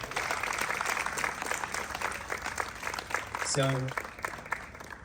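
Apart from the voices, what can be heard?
audience applause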